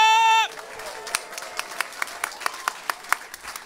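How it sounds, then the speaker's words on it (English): Scattered, sparse hand claps from a comedy show audience start after a brief sustained tone, coming as separate, irregular claps rather than full applause. "Let's start a nice gentle ripple of applause"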